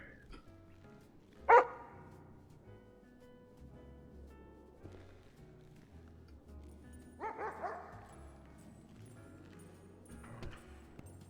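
A police K9 dog gives one sharp, loud bark early on, then a softer burst of barking or whimpering a few seconds later, with a faint yip near the end over quiet room noise.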